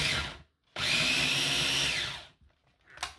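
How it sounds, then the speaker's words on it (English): A loud whirring blender motor pulses tomatillos, running steadily for about a second and a half, then cutting off, with a short burst of clatter afterward. "I like to blitz the tomatillos first because they have a nice amount of liquid."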